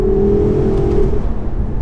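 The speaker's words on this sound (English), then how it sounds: "It's that flow of air through the engine as well. You can hear it, just because it has so much power." A 2015 Porsche Panamera Turbo S accelerates hard from inside the cabin, a loud, close engine roar with a rising whir that eases off after about a second, with no talk.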